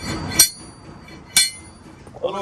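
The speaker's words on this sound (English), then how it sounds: "I have got this hammer." Two sharp metallic hammer strikes ring out about a second apart, working to loosen a stuck, heated cutlass bearing on a Fisher 30 boat, close and crisp against a quiet background.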